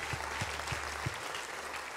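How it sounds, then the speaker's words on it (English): A church congregation claps during a Sunday service, a full steady round of applause with a few rhythmic low thumps standing out in the first second. "could you give him the best hand clap you've given him all morning long?"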